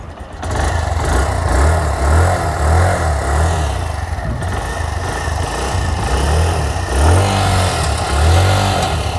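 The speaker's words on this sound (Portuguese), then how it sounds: "tem um ronquinho bem suave essa moto" A Haojue DK150 motorcycle engine runs with a soft, low rumble, pulsing in a series of gentle, evenly spaced rev swells close by.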